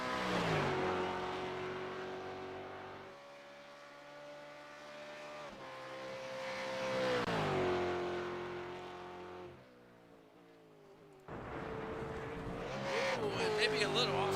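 A V8 Supercar laps Road Atlanta, its engine droning loud and near, climbing and falling through gear changes, then cutting out briefly before revving hard again; a commentator talks over part of it.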